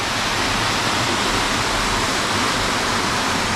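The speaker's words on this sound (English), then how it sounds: "Huh? That's a river." The River Tigoni in Kenya rushes past close by in a steady, loud, broadband wash of flowing water with no breaks and no voices.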